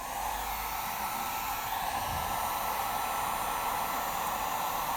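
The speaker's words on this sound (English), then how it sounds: "I'm ready to turn on my heat gun" A heat gun on its high setting blowing continuously, a steady loud whooshing roar of hot air much like a hair dryer, unchanging from start to finish.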